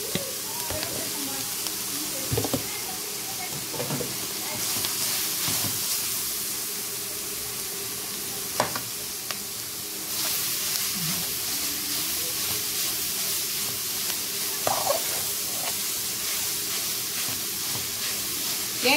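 Chicken breast frying in a pan gives a steady soft sizzle and hiss, with occasional clinks and stirring scrapes over the constant background.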